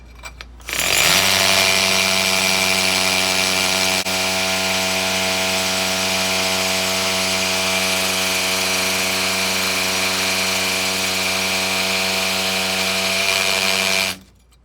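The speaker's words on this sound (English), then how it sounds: "since we're going to be hammering into this concrete block, we want to switch this to hammer mode" A hammer drill in hammer mode bores into a concrete block, running steadily and loudly for over ten seconds with a harmonic whine, starting abruptly and cutting off at the end, no talking.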